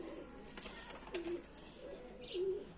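A male pigeon gives soft, low coos in two short phrases, faint and close, with light background rustle and a few small clicks.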